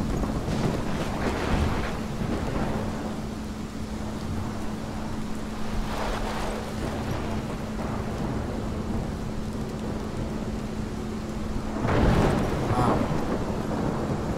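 Thunderstorm in the video game Life Is Strange: deep rumbling thunder and rushing wind swell in broad waves, loudest near the start and again near the end, over a steady low hum.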